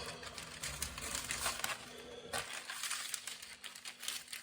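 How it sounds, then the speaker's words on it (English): Soft crinkly snipping as scissors cut a paper circle to line a baking tin, paper rustling up close, fairly quiet, with a steady low hum underneath that drops away halfway through. "get your scissors and then just go round the circle"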